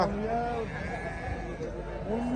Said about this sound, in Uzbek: Semiz qo'ylar. Semiz, etlari yaxshi.